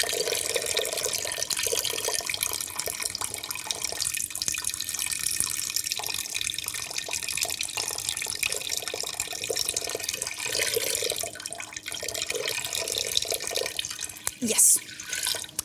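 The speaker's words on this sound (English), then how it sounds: "we are gonna put in this pot and fill it with water" Tap water pours steadily into a pot holding a bowl, set up to melt baking ingredients, making a continuous rushing splash for about fifteen seconds that ends with a short clunk.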